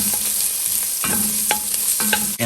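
Minced garlic and onions sizzle loudly in a hot pan under a close, steady frying hiss, with sharp scrapes and clatters of a spatula stirring roughly every half second.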